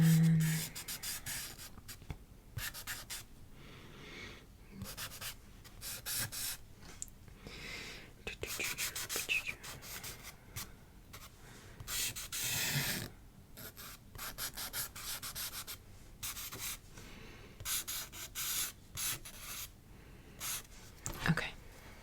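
Charcoal rubbed and smudged into paper for a figure drawing makes soft, repeated scratchy strokes in irregular bursts, close up, with faint soft-spoken murmuring at times.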